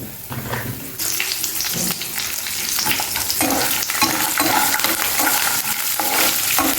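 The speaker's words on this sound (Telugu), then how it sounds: "ఇవి కొంచెం వేగిన తర్వాత ఇదిగోండి ఒక ఏడెనిమిది పచ్చిమిర్చి వేస్తున్నాను ఇందులో" Green chilies and peanuts fry in hot oil, a dense steady sizzle with bursts of stirring scrapes that grows louder and fuller partway through, close and continuous with no voices.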